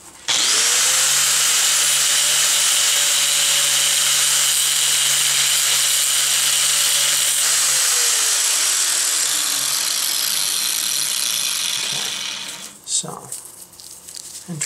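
A power tool cuts into the hard epoxy of a LifeStraw water filter, a steady loud whining drone that holds for about twelve seconds, then winds down and stops, followed by brief handling clatter.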